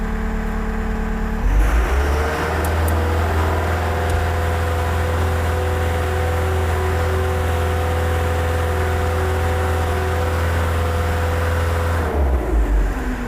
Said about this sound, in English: move the joystick all the way forward and hold it in the forward position at maximum engine RPMs.